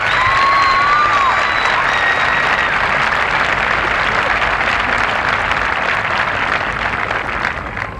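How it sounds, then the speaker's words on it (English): Crowd at a high school commencement for the class of 1995 applauding the graduates, sustained dense clapping from a large audience with a few faint whistles early on, steady and loud throughout. "I thank you for applauding for these students"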